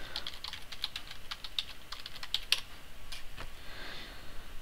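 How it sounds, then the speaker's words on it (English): Fingers type quickly on a computer keyboard, a steady run of crisp key clicks with a few louder taps, close up and with no voices. "then I want to type it in for the second time to make sure it pasted correctly"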